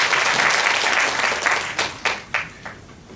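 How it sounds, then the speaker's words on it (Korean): Audience applause for five high school students about to present at a school education forum, dense clapping from a room of listeners that thins out into a few last scattered claps before fading. "큰 박수 한번 부탁드리고요"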